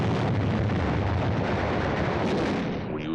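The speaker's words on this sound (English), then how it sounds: "We use hand grenades." Continuous heavy blasts and explosions from hand grenades and combat fire during the battle at Tarawa, loud and dense throughout with no pauses, fading slightly at the end.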